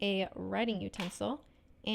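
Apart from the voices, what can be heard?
None of the usual background noises is heard.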